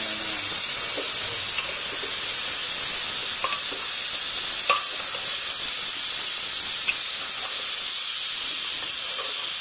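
A pressure cooker releases steam in a loud, continuous high-pitched hiss that holds steady throughout, with faint clicks and rattles underneath.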